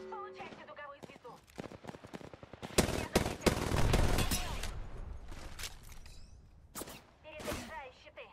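Enemy gunfire aimed at the player in Apex Legends erupts as a dense, loud volley of rapid shots lasting a couple of seconds, with scattered shots before and after and voices talking.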